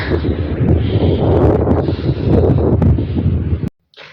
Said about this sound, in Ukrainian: в нас вже вітер і вже хмарно